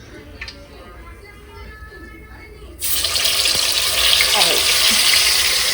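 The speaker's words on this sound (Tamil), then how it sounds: "ஸோ இந்த காடை எடுத்து உள்ளே போட்டுடலாமா?" Whole quail dropped into hot, boiling oil for a restaurant-style home-cooked kaadai fry: a quiet kitchen gives way to a sudden loud, steady sizzle that keeps crackling to the end.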